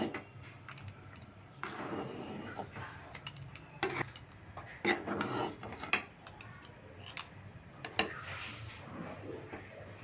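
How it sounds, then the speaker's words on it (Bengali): Rice flour for dudh puli pitha is stirred in a pot, making soft, irregular scraping and rubbing strokes with a few sharper scrapes, close by and fairly quiet. "সব চালের গুঁড়িগুলো দিয়ে দিলাম। দেখো, এইভাবে নাড়তে হবে।"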